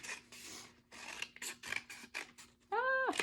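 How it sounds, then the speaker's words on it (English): Scissors snip a series of slices into a sheet of paper, several short crisp rasping cuts in an uneven rhythm, close up, ending with a brief squeaky scrape. "If I kept cutting, I would just have another pile of strips"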